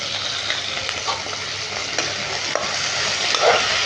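Chopped tomatoes with a little salt sizzle in a frying pan while stirred, a steady hiss broken by light scrapes and clicks of the spoon, close and continuous.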